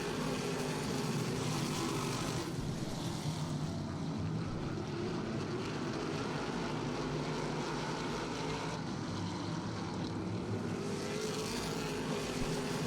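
Race cars in a dirt-track heat race roar past in a sustained, loud engine drone that swells and fades as two cars battle side by side down the back stretch.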